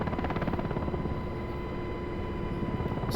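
A helicopter in the Digital Combat Simulator game drones steadily with a dense rotor and engine roar, loud and constant throughout, with no voices.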